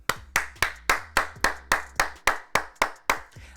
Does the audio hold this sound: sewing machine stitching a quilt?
no